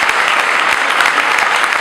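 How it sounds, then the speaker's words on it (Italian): Dense, steady applause from a festival audience, many hands clapping together in a loud continuous wash with no break. "Mirko Sabatini, un applauso enorme per voi."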